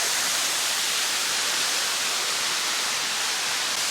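Paradise Falls pouring into a cold cove in Victoria's high country, a dense, unbroken roar of falling water, loud and even throughout with no voices.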